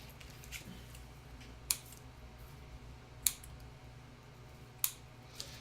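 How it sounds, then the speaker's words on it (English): Scissors snip through excess twine on a mixed-media rose craft project, giving three sharp, distinct cuts spaced about a second and a half apart plus a fainter fourth, each crisp and close over a quiet room hum. "we're going to trim off the excess of our twine"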